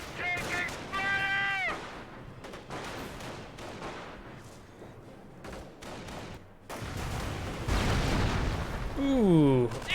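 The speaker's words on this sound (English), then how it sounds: "Ooh, a landmine detonation there." A landmine detonates in the real-time strategy game Company of Heroes, a loud, broad explosive burst late in the clip amid ongoing battle noise, with a commentator talking over much of it.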